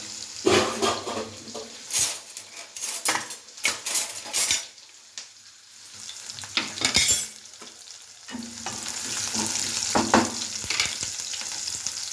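Oil crackles and sizzles in a pan as spices such as coriander powder, cumin powder, red chilli and turmeric hit it for tempering, with metal utensils clinking and scraping in bursts, close and fairly loud.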